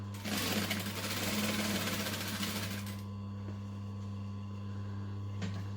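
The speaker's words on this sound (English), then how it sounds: "I'm going to stitch here and here" A sewing machine runs in one steady burst for about three seconds while stitching circle skirt seams, a close, rapid, even whirring and clatter that then stops, leaving a low electrical hum.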